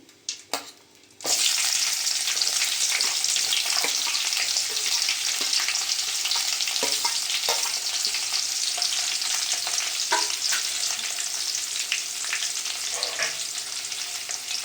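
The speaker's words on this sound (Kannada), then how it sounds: "ಈರುಳ್ಳಿನ ಫ್ರೈ ಮಾಡ್ಕೊಳ್ಳೋಣ." Onions frying in a hot pan for a chicken dinner, a loud, dense and continuous sizzle that starts abruptly after a few brief knocks and holds steady close up with no talking.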